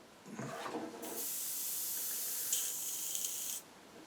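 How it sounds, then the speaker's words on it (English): Airbrush blowing excess paint out into a pot, a soft hiss at first and then a steady loud spray lasting about two and a half seconds before it cuts off. "Let's quickly dunk the excess out of the airbrush into the do not drink pot"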